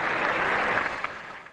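Cricket crowd at a Sydney test match applauding an on-drive for four, a steady wash of clapping and cheering that holds loud for over a second before easing slightly.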